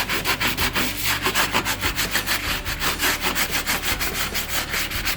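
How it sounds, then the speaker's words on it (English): A sponge scrubs a kitchen stove with Bon Ami cleanser in fast, even back-and-forth strokes, a loud rhythmic rasping close up with no talk. "I'm just gonna kind of scrub away at it"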